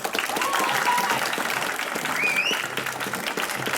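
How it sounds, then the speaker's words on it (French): A crowd at the Orsay Physics Show applauds a presenter, with dense continuous clapping throughout and a few whistle-like tones cutting through near the start and middle. "un tonnerre d'applaudissements pour Claire Charal"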